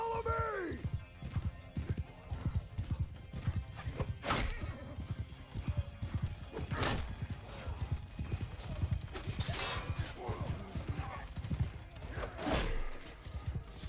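Rapid hoofbeats of galloping horses pound steadily with occasional whinnies, set in a busy Mount & Blade II: Bannerlord battle soundscape with a Lord of the Rings mod, while a voice talks over it.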